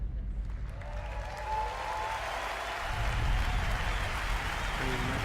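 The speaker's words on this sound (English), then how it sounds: "Another round of applause, please, for Marty Hugo and all of our presenters tonight" Audience at the Bethesda E3 2019 conference applauding, a steady wash of clapping and crowd noise that swells slightly toward the end, with no clear voices on top.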